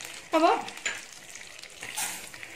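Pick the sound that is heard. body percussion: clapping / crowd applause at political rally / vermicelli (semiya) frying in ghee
vermicelli (semiya) frying in ghee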